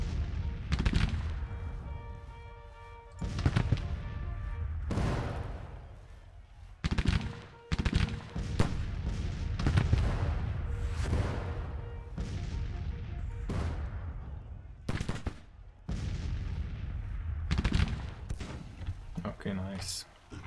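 Repeated bursts of Civil War musket and cannon fire from the Grand Tactician game crackle and boom across a battlefield, sometimes in dense volleys and sometimes in single reports, with rumbling in between.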